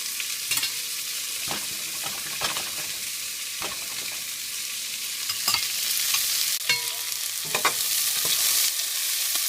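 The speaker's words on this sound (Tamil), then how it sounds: "ஒரு ஸ்பூன் நெய் ஊற்றிட்டு பேலன்ஸ் இருக்க ஒரு வெங்காயத்தையும் நல்லா பொன்னிறமாக வறுத்து" Onion frying in ghee until golden brown, a steady close sizzle broken by repeated scraping stirs of a spoon against the pan, continuous and fairly loud with no voices.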